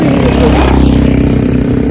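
Many trawler boat engines on the Ganges at Diamond Harbour during low tide, heard as a loud, close, steady low diesel rumble that drones on without a break.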